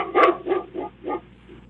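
A dog barking near a doorbell camera at the door at night: four or five moderate barks spaced about a third of a second apart, fairly close, with no talk.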